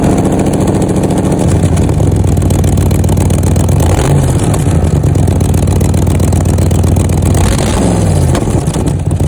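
A 1984 Chevrolet Corvette with a carburetor running rich idles loudly and close, its engine rumbling steadily with uneven firing and occasional pops from the exhaust, and no one speaking.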